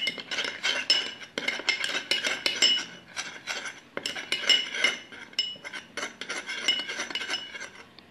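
A spoon clinks and scrapes steadily against a small bowl while mixing lemon juice and cucumber juice, a close, bright series of metallic taps and stirring strokes with short pauses and no speech.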